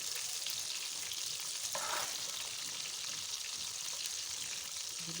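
Beef chapli kebab frying in oil in a pan, a steady, dense, crackling sizzle held close and even throughout with no voices.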